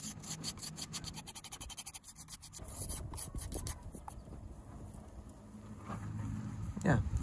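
A clay pot on a pottery wheel is carved and trimmed with a tool, giving soft continuous scraping and rasping over a faint wheel hum, with brief rhythmic ticking early on and a sharper scrape near the end.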